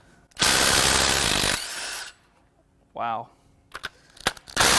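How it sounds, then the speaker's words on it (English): Loud bursts from an impact driver working on the cylinder head bolts of a burned Chevrolet Silverado 6.0 LQ4 engine, two long rattling runs with short bursts after, and a brief spoken exclamation between them. "we're going to try to get the head bolts out using my impact driver here"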